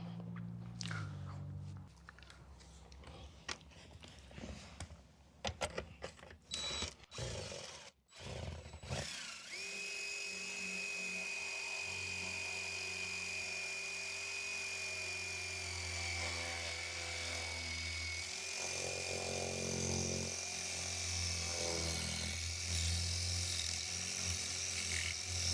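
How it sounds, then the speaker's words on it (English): Power drill fitted with a 3/4 inch masonry bit boring through material to fix a leaking window well, with clattering handling noises first, then a long, steady close whine that shifts pitch partway through. "Use a 3/4 inch mason bit to go through this."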